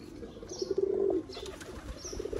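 Pigeons from a breeder's loft softly cooing, one low rolling coo standing out near the middle over faint background noise, with a brief flutter of wings.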